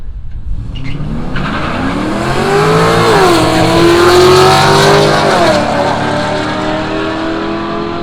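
Street-series drag racing cars launch down the strip at Willowbank, a loud close engine roar climbing sharply in pitch through the gears with a brief tire squeal, holding a harsh full-throttle howl to the end.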